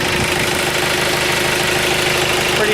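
A John Deere 110 TLB tractor engine idles steadily and close by, a continuous mid-pitched diesel rumble with a slight knocking pulse and no talking.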